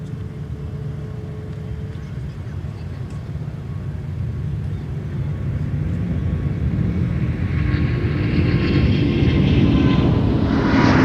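A Delta Airbus A350-900 jet taking off at Minneapolis–Saint Paul airport, a broad engine roar building steadily from a distance and swelling louder toward the end, with rising high-pitched whine.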